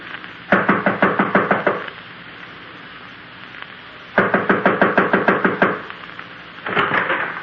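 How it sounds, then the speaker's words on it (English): Knocking on an apartment door in a radio drama: two loud, close bursts of about eight rapid raps each, separated by a pause, with a third burst starting at the end. "I'll knock."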